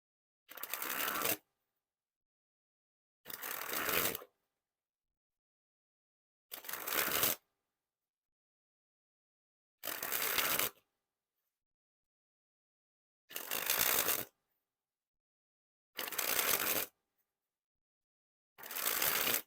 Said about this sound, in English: time to test the handling. And first we'll start with the springs